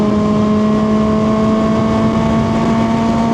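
A retro motorcycle engine runs loud and close on a commute, holding a steady, even drone with strong engine harmonics and no talk over it.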